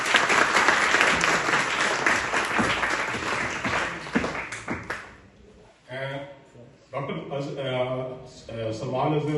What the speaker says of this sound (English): I request you to give a big round of applause for him.